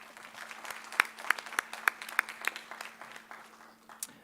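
A small audience at a Board of Education meeting clapping, a handful of sharp, distinct claps ringing out in an uneven rhythm for a few seconds before thinning out.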